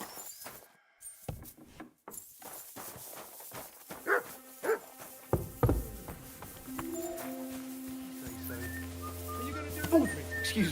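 A dog barking in the medieval game Kingdom Come: Deliverance II, short scattered barks against outdoor village ambience with whistle-like tones, other animal sounds and occasional speech.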